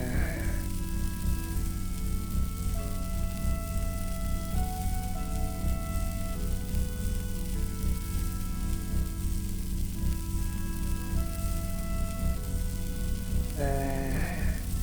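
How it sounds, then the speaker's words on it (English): Food sizzles steadily in a frying pan on a stove in the Minecraft video game, a dense, continuous crackling hiss like rain, accompanied by soft melodic game music and short tonal blips near the end. "I'm making jam. So I needed a stove and a frying pan and a spatula."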